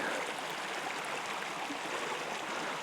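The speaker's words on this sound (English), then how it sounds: "Here's a look at Pine Creek." Pine Creek runs through the Warner Mountains wilderness, a steady broadband rush of flowing stream water, constant and fairly close, with no voices.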